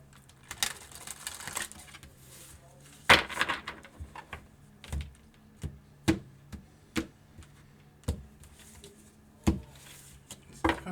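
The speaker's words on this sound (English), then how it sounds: "One more shuffle." Tarot cards being shuffled and tapped give quiet, sharp clicks and soft riffling at an uneven pace, roughly a dozen distinct snaps spaced across the stretch, close up with no talking.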